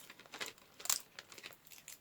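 Adhesive tape is peeled off a box of pencils in a few short, crinkly tearing pulls, close and fairly quiet, with no talking.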